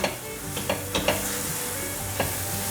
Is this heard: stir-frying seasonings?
yes